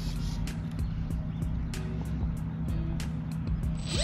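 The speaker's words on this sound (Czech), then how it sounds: "Motor nemá dobrý zvuk." Electric motor of an Alpha 1500 V2 RC glider sounding rough and unhealthy on an Alpine slope, a steady droning hum with a buzzing, uneven edge and faint periodic clicks, continuous and fairly close.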